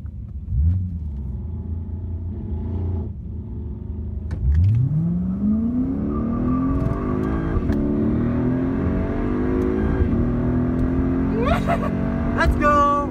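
A Mercedes C63S AMG engine revs hard and accelerates, its pitch sweeping upward through the gears in loud, close bursts, with excited voices heard over the roar.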